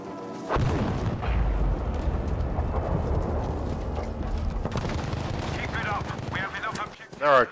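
Stuka dive bomber attack in Battlefield V on the Narvik map, heavy booming explosions and rumbling blasts roaring continuously, close and loud, with brief talk rising near the end.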